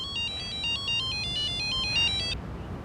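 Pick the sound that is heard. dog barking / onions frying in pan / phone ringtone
phone ringtone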